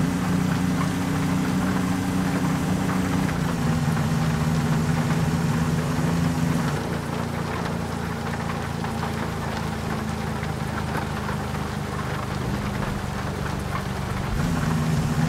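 Steady rain drums on a GMC pickup truck driving in American Truck Simulator, a continuous hiss over a low constant engine drone with no voices.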